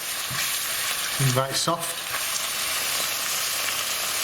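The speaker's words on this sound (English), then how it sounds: "So we're going to want to get these onions nice and brown" Onions sizzle in a pan with garlic and ginger paste as the base for chicken vindaloo, a loud, continuous close-up frying hiss with a brief spoken phrase partway through.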